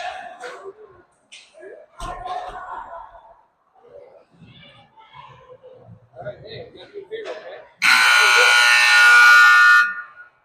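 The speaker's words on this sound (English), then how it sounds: "Buzzer will sound." A loud, harsh electronic buzzer ending a youth hockey period blares for about two seconds near the end of the clip, after stretches of excited talking.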